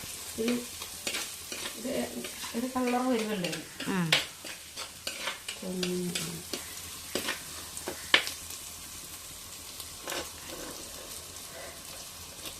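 Sliced onions sizzle in oil in an aluminium pan while being fried golden for a fish head curry. A steady crackling hiss is broken by spoon stirs and scrapes, with someone speaking briefly.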